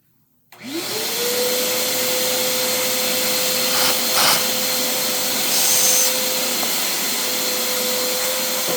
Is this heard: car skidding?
no